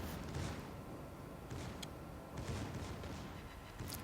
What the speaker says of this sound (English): Last salvo on the Vanguard before I make the turn.